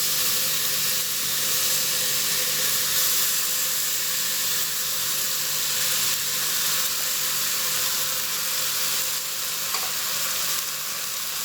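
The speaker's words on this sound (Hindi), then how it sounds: "थोड़ा सा हम भूनेंगे इसे, झटपट करना है तो हम इसके अंदर जो है वो साथ ही ये देखें, ये हम अरबी भी डाल देंगे।" Taro root (arvi) frying with masala in a pan gives a steady, loud sizzle and hiss, continuous throughout with faint stirring and no talk.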